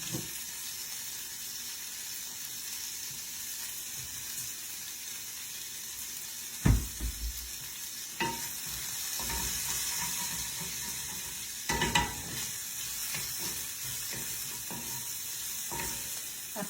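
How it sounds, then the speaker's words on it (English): Fajita filling sizzles steadily in avocado oil in a pan, a constant close hiss broken by a few knocks and scrapes of stirring, with no talking. "avocado oil in my pan that I'm sauteing in"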